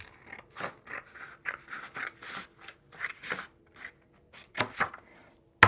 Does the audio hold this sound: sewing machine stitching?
no